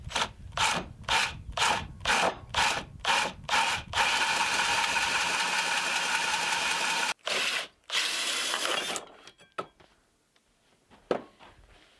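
Drill boring a hole through a plastic cap held in a vise for an off-grid rainwater system, a string of short rhythmic bursts followed by a steady several-second whir, close and alone.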